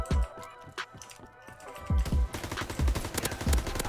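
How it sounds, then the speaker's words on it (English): MP40 submachine gun firing in the video game Call of Duty: WWII on PC, short punchy bursts of rapid shots repeating in quick succession, loud and close with clicking in the background. "I'm gonna try to use the MP40."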